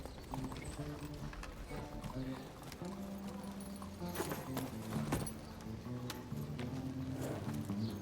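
Rhythmic clip-clop of horse hooves plodding along at a steady walk in the video game Evil West, with a low music bed and some voices underneath.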